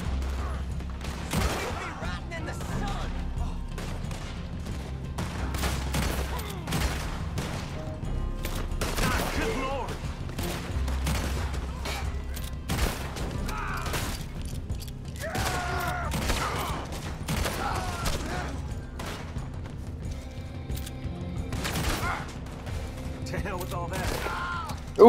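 Gunfire in an online Western shooter game: repeated sharp shots scattered through the whole stretch, some in quick bursts, mixed under steady talk.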